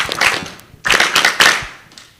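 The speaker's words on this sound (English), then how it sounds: "Clap for yourself. Better clap." Students applauding in a group, with bursts of clapping that fade, pause briefly, then swell again into a second louder round before tapering off.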